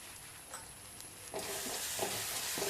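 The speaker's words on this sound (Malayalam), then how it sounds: "ഒന്ന് മിക്സ് ആവാൻ വേണ്ടി മാത്രം ഒന്ന് ഇളക്കി കൊടുക്കാം." Sauce is stirred into cabbage frying in a pan, giving a soft sizzle that swells partway through as the spatula scrapes and turns the food in a few short strokes.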